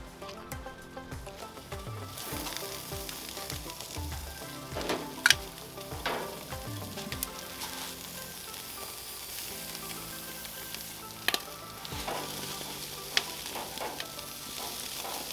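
Overnight-marinated steak kabobs sizzling on a Mesa 400 grill: a continuous close crackle and hiss with scattered pops and ticks, steady throughout without talk.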